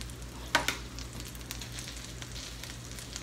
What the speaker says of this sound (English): I'm going to put my little mini peanut butter sandwiches in there, and all I'm going to do is I'm going to fry them up.